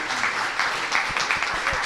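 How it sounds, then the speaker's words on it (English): Brief applause from a seminar audience in Orlando, a soft patter of clapping lasting under two seconds, fairly quiet with a few sharper claps near the end. "Can we just give her one more round of applause?"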